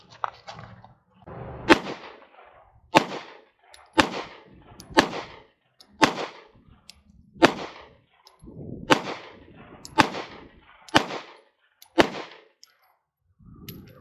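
A Strike Industries Strike 80 pistol fires from a 19-round magazine, about ten loud, sharp shots spaced roughly a second apart, each with a short echoing tail.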